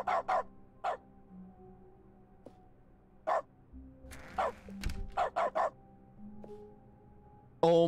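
Cartoonish dog barks from a click action in dog mode of The Stanley Parable video game: a handful of short, sharp barks at uneven intervals, some paired in quick succession, against a quiet low background hum.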